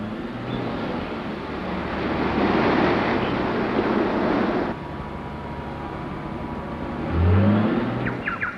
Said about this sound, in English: Cole directs the amphibious truck into the forest